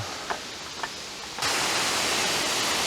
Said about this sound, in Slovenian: Še en pogled na 3. slap.